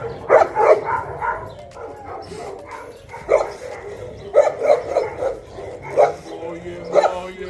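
Several dogs bark and yip in short bursts while being teased during a backyard barbecue, sharp clustered barks recurring near the microphone with brief whimpering pauses between.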